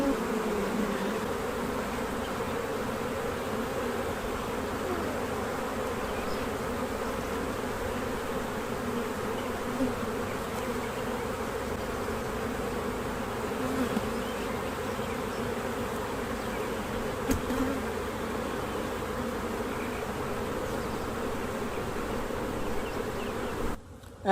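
Honeybees hum as a dense, continuous buzz during a spring hive check, close and steady throughout with small rises in intensity and no voices.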